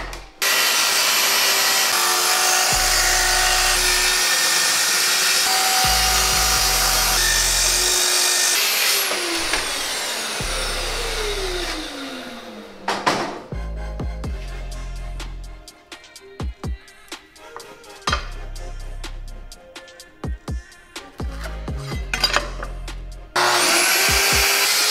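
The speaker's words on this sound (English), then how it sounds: "have the track clamped to the piece of material that we're going to be cutting" A track saw clamped to a track cuts wood for a modern floating night stand, a loud close motor whine with the blade grinding through the board, winding down mid-clip, then scraping and clattering handling noises before a final burst of saw noise.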